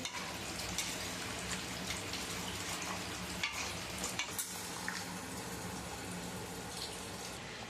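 Chicken curry with fried spices sprinkled on top being stirred in a pan, a steady close sizzle with scraping and clinking of the spoon running throughout, no voices.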